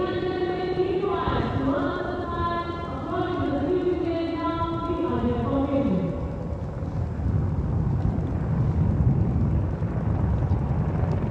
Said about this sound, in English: Apache helicopter victory formation में कर्तव्य पथ के ऊपर पहुंचते हुए